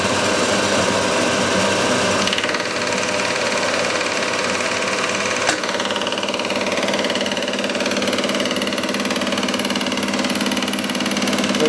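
Milling machine cutting dovetails at 1750 RPM, a constant high whirring drone with a steady machine hum, unbroken throughout and close up, no talk.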